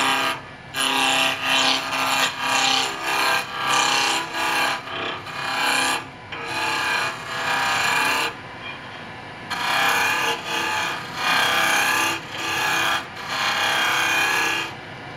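A wood turning gouge cuts a spinning wood blank on a lathe, knocking down the square corners toward round, giving a continuous raspy scraping and chattering with rhythmic surges, close and loud without talk.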